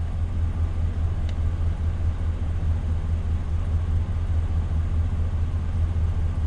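Car engine idling during a misfire diagnostic, a low, steady rumble with a constant hum and no noticeable change, heard close and alone without talk.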